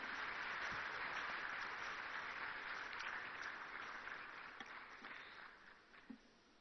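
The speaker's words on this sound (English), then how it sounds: "I guess the spontaneity of the applause shows the quality of the work" Applause from the audience at a national economic dialogue conference, a dense wash of clapping that starts full and gradually fades over several seconds.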